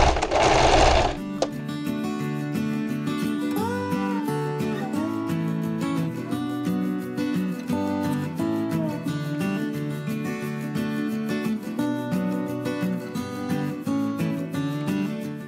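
A sewing machine stitches a denim apron made from old jeans, running in a fast, steady mechanical whir with rapid needle ticks, close and continuous, after a brief rustle at the start.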